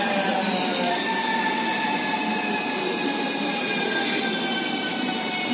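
A metro train arrives at Voykovskaya station with a loud continuous rumble and high metallic wheel squeals, steady and close throughout.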